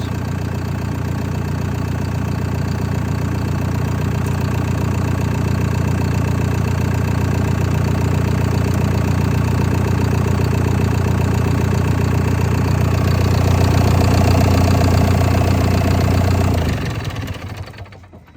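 A John Deere Tier 4 tractor diesel engine with a little pressure on it idles steadily with a deep, even rumble and faint knocking, growing slightly louder near the end before cutting off abruptly.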